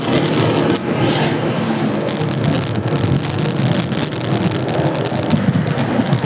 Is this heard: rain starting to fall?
yes